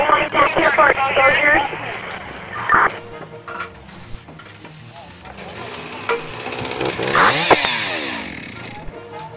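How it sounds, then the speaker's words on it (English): Firefighters from Fresno's Truck 11 run chainsaws on scene before climbing to a roof to ventilate it. The saws whine and rev in bursts, with radio chatter and voices over them. "They start their chainsaws and climb to the roof to start the ventilation process."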